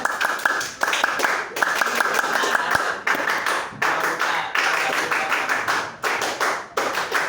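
Hand clapping producing different tones, a rapid series of sharp claps in bursts and rhythmic patterns with brief pauses between groups, loud and close.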